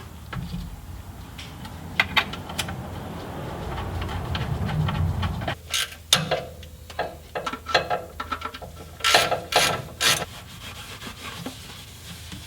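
A ratchet bolts a part in place under a car during a transmission service, giving a steady rasping rub followed by bursts of close, scratchy clicking strokes at irregular intervals.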